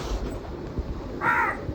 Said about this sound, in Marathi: आणि त्यात त्या कावळ्याचा पण आवाज येतो.